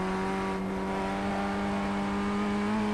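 An F1600 race car engine in the iRacing simulator drones at a steady high pitch with a constant, sustained hum and no pauses, heard alone and fairly quiet.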